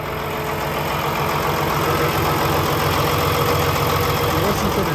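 A 2016 Peterbilt 579 truck with a Paccar MX13 engine idles close by, a steady, even low rumble with a fine rapid clatter, continuous and fairly loud.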